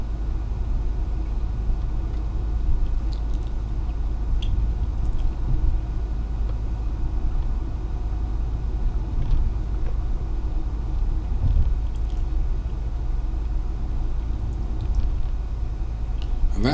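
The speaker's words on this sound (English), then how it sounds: "You can see the traffic ahead." Road traffic on the Oxford ring road makes a steady low rumble of passing cars and engines that is continuous and moderately loud, with occasional faint higher clicks and no talk.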